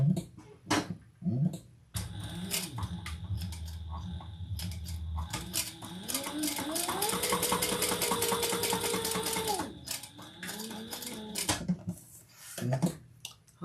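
A sewing machine stitches in loud whirring bursts, ramping up into a long sustained run and then slowing, with short clicks and fabric handling between runs.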